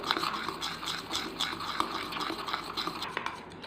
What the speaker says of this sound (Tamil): கொஞ்சம் ஃபாஸ்ட்டாகவே கிளறுங்க, ஸ்லோவாக வேண்டாம்